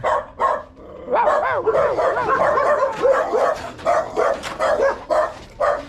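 A dog barks repeatedly in quick, agitated bursts, with whiny yelps and yips between, close and loud.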